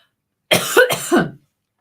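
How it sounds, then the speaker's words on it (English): A short burst of two or three harsh, throaty hangover coughs close by, packed into about a second, followed by silence. "Sorry, I've got the hangover cough."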